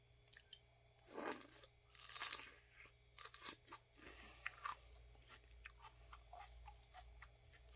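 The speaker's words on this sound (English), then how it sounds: "if I'm trying to eat fresh celery," Crisp, crunchy bites into fresh celery stalks, with two strong chewing bursts followed by a run of smaller, sharp crunches and clicks as it is chewed up close, no talking.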